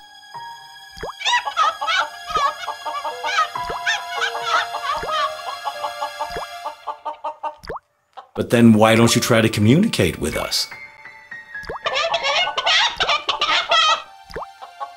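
Rooster clucking in the video game Journey To The Center Of The Moon, rapid bursts of clucks and squawks repeating across the scene, close and loud, with someone speaking in between the calls.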